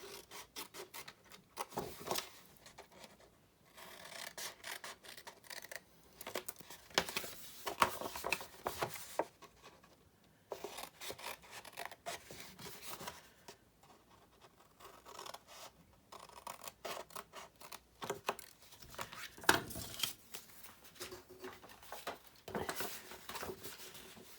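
Scissors cutting two corner pieces from the bottom of a paper gift bag panel, giving soft irregular snipping and rustling strokes with quiet gaps, close and faint, with no talk.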